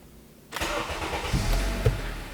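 An Acura/Honda car engine is started with the ignition key: quiet at first, then a sudden crank catches and settles into a steady idle with a couple of small revs, heard close with no talking.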